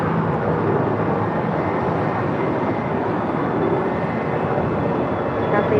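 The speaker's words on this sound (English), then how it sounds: "Air Tahiti Niue Flight A coming from Papeete, 787-9 Dreamliner next arrival" An Air Tahiti Nui Boeing 787-9 Dreamliner arrives from Papeete, its jet roar a loud, steady broadband rush that holds evenly throughout.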